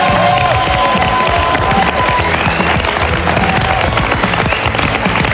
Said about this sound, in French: On applaudit à nouveau notre famille vainqueur, Vanderès.